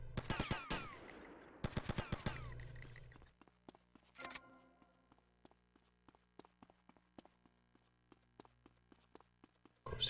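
Gunfire in the video game GTA Vice City: rapid machine-gun bursts up front, a heavier blast, then scattered sharp single shots and clicks, punchy and close with no talking.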